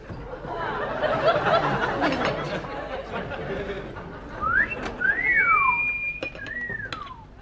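A man whistles at a young woman in a 1969 British TV comedy, giving a few rising and falling wolf-whistle tones near the end over a busy background of laughter and chatter.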